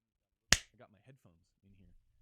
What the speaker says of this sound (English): If I clap my hands